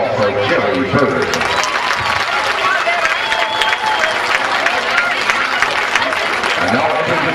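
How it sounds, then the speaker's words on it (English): Crowd applause at a 2005 Corbin versus Pikeville sports event, steady dense clapping and cheering from a large audience, with an announcer's voice over the top. "a big round of applause for Jerry Bird"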